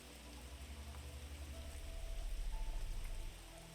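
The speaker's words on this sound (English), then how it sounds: "hear that heavy rain on the leaves." Steady, soft rain patters continuously on foliage, a dense hiss with low rumble underneath, swelling slightly in the middle before easing off.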